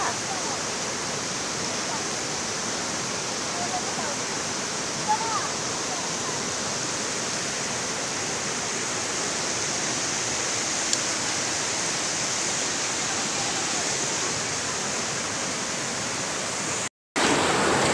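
A strong current of the Sungduan River in Eastern Samar rushes continuously with a dense, even roar of flowing water, loud and unbroken throughout, cutting out briefly near the end.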